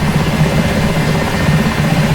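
An Mi-8 helicopter in DCS World runs from the cockpit with a steady, loud turbine drone and low rotor thrum, continuous and close with no voices.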